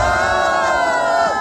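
Wedding guests at a Marwari celebration cheer and whoop together, a loud continuous crowd roar with raised voices blending into one sustained swell.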